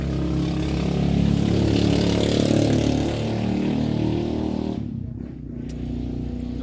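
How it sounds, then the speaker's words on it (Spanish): A loud, noisy motorcycle engine runs close by outside a small shop in the Philippines, holding a steady rumbling idle with slight rises in revs before the sound briefly drops and picks up again. "La moto que está bien, se oye bien ruidosa"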